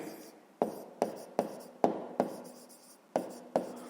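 A pen writes out a math solution in short, regular strokes, each starting with a crisp tap followed by a brief scratch. The strokes are close and quiet, with a faint voice in the background.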